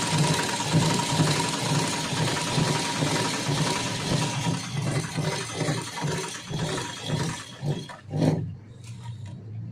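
A sewing machine stitches along the drawn neckline of a blouse front, a steady mechanical whir that breaks into faster rhythmic needle pulses before easing to a stop near the end, close up with no voices.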